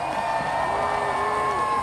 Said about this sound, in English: You can hear the claps now. People are greeting the torch now.